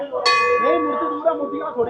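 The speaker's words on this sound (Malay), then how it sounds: "Tapi semua orang macam tekan loceng ni." A single temple bell in Shimla struck once by visitors, ringing out with a bright clang and a sustained shimmering tone that slowly decays.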